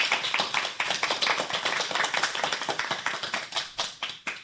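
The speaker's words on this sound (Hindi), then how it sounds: "इसके लिए जोरदार तालियां तो बनती है ना भाई।" A small group claps for a little girl reciting shlokas at a girls' school programme, a quick run of sharp, distinct handclaps at close range that fades slightly toward the end.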